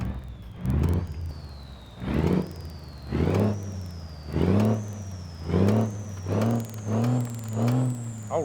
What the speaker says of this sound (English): it's an older engine, so she should sound nice